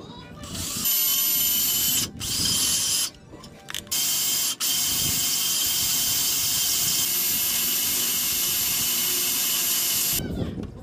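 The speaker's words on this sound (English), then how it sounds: "make me some pilot holes and use the hardware that came with it and drill it" A power drill drilling pilot holes for a flat tow light setup whines loudly and steadily, stopping briefly a few times between runs, with a final burst of rough grinding near the end.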